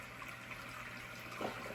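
Water from a hygger adjustable internal aquarium filter spills over its waterfall outlet in a steady, soft trickling wash with a brief louder splash near the end, heard alone and fairly quiet.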